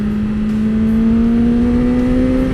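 A 2020 BMW S1000XR motorcycle engine accelerates in a loud, continuous rising drone with a steady whine. Wind rush sits underneath, and there is no talk.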